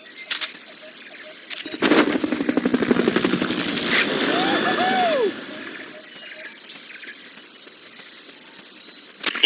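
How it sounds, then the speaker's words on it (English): Helicopter in the video game Metal Gear Solid: Peace Walker, its rapid rotor chop swelling loud for a few seconds amid whooshing and rising tones, then dropping back to a low hiss, with sharp clicks at the start and end. "Fulton recovery subject confirmed onboard helicopter."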